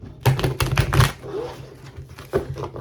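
Tarot cards are shuffled in a few quick riffling bursts, crisp and close, with a brief pause before one more short shuffle.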